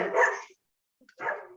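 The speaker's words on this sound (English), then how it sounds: "the dog will start. Let me just quiet these dogs a bit" Dogs bark in two short bursts separated by a silent gap, fairly close and loud, with no talk over them.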